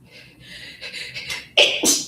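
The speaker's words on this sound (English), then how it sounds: "Hold on, I have to sneeze." A single person's sneeze, a brief sharp burst of breath that starts abruptly and ends with a second, shorter release, close and loud above a quiet indoor background.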